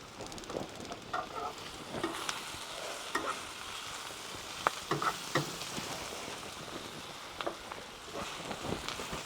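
Soft, steady sizzling of skirt steak in a hot pan as sauce is poured over it, with scattered crackles and pops, fairly quiet and close.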